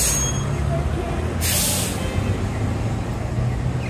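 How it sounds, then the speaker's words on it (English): A city bus on East Broadway at Commercial Drive in Vancouver lets out a sharp hiss of its air brakes partway through, set against steady street and traffic noise. "the East Broadway bus is still able to come on in here and do turnarounds"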